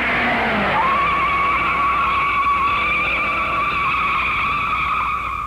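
Race car at the 1956 Indy 500 hurrying through a corner, tires squealing loudly in a long sustained skid as the engine note rises and then holds, close and continuous.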